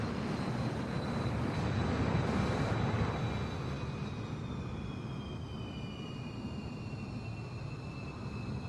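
An F-15E jet engine roars steadily in flight in a flight simulator game, a loud continuous broadband rumble with a faint high whine that slowly drifts in pitch.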